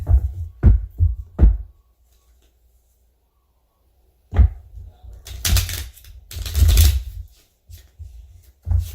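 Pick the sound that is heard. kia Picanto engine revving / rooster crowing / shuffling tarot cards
shuffling tarot cards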